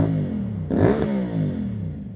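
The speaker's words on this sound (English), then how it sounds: "I'll rev it up" Close by, a CFMOTO 450SS motorcycle with a Yoshimura slip-on exhaust idles, then gives one sharp rev that climbs and falls back within a second, settling into a steady idle.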